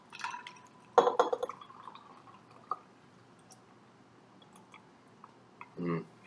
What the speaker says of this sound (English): strain out the ice